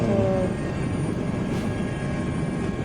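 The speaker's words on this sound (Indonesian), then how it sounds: "Ini pesawat Malaysia. Pesawat Malaysia yang bantu Indonesia ya." A steady, broad roar of a Malaysian aircraft in flight, a continuous droning rumble with no breaks, fairly loud throughout.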